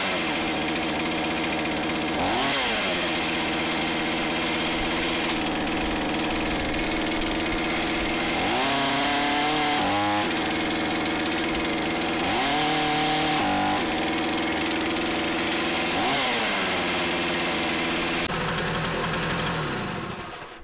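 A chainsaw engine running loud and close, revving up and dropping back to idle several times in an uneven cycle; a faulty chain keeps moving after the trigger is released.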